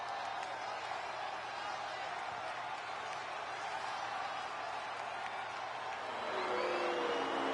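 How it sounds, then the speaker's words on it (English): A WWE 2K23 wrestling arena crowd boos a wrestler, a steady dense roar of many voices that holds throughout and swells louder near the end. "Oh, they're booing him."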